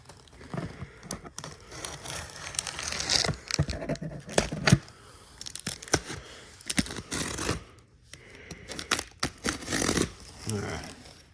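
A cardboard package holding a Gemmy airblown Halloween tree is cut open with scissors, giving irregular crinkling, tearing and rustling bursts with short pauses, and a person talks over parts of it.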